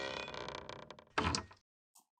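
A creaking door opening from World of Warcraft, a drawn-out wooden creak with a louder swell near the end, then a brief faint knock after silence.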